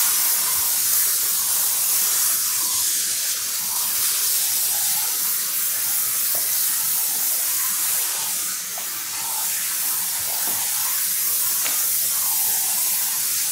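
A steady, loud spray hiss of PVC all-season bonding adhesive being sprayed from a hose runs continuously with no break, a broad airy rush that barely changes in level.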